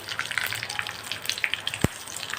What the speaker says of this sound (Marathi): आता ह्यावर आपल्याला एक फोडणी द्यायची आहे एक चमचा तेलामध्ये पाव चमचा राई सात ते आठ कढीपत्त्याची पानं आणि एक सुकी मिरची